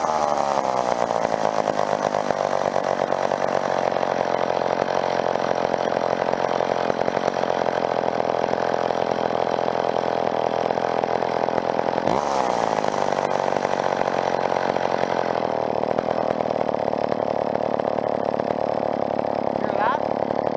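An old McCulloch chainsaw engine runs loud and close during carburetor tuning with the high-speed screw. It holds a high, steady whine and shifts pitch sharply around the midpoint. The engine drone continues nonstop to the end.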